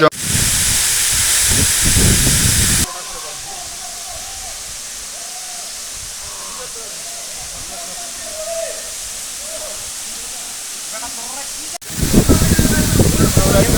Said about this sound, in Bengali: পানির আওয়াজ শোনা যাইতেছে, মনে হয় পানি পাবো